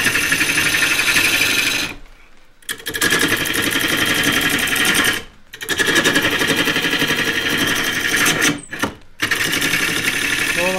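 A wood lathe spins a claret ash vase blank while a half-inch bowl gouge roughs it down. The loud, buzzing cutting drone runs close and continuous, stopping briefly three times before starting again.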